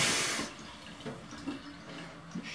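Cold water gushes loudly from a tap into a measuring cup at first, then drops to quieter trickling and splashing with a few small clinks, no voices.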